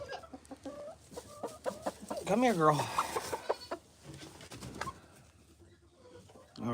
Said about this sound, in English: We're gonna put these chickens back over here.